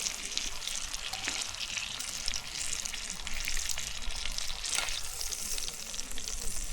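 Onions and green peppers fry in hot butter, giving a steady, close sizzle with crackling pops throughout and no talking.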